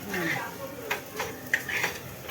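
Spices with turmeric and coriander powder are stir-fried in a pan, giving a soft continuous sizzle with scattered clicks and scrapes of a spoon against the pan, under a person talking.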